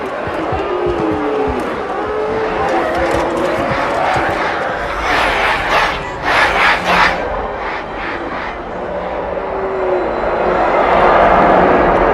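Crowd noise in a Halo 2 Anniversary cutscene, a broad wash of a gathered throng murmuring and cheering with bursts of louder cheering midway, mixed with rumbling engine-like ambience and music underneath.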